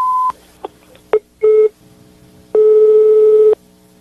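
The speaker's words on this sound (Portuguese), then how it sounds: "Não, caiu a ligação." Telephone line tones alone: a short steady beep, a few quick dial-tone blips, then a one-second busy tone as the call drops, loud and close.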